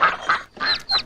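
Cartoon ducks quack inside a museum: a quick run of three or four loud, close, honking quacks with brief gaps between them.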